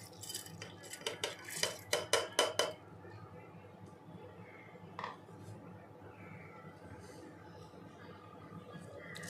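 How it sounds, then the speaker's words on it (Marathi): Raw rice is poured into a steel mixer grinder jar, producing a quick burst of rattling, clinking grain and metal knocks for a few seconds, then a single later clink over a quiet room. "इथे मिक्सरचं भांडं घेतलंय मी आणि हे तांदूळ आता मी याच्यात टाकत आहे।"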